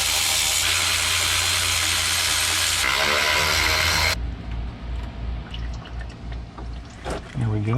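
Fluid drains from the power steering pan of a 1978 Ford F100, first a loud steady pouring rush, then quieter trickling and dripping after the flow drops off.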